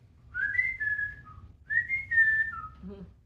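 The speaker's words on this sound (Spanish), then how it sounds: "Eso significa sheruká, chiflido o silbido en mofa." A person whistles a mocking taunt (sheruká), two descending sing-song phrases close to the mic, each sliding down at the end, with a brief pause between.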